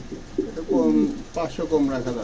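Pigeons offered for sale at a wholesale bird market, cooing in a couple of close, throaty bursts.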